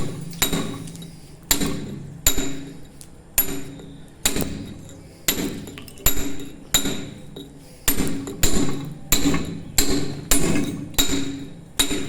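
A hammer strikes a pointed stone-carving chisel (puntero) against stone about a dozen times in a steady rhythm, each blow a sharp, close metallic clink with a short ring.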